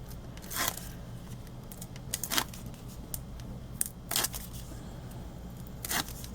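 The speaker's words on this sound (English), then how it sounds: "And we're going to peel them off." Adhesive pads having their backing peeled off during card crafting, giving four short, crisp tearing-crackle bursts spaced a couple of seconds apart over a quiet background.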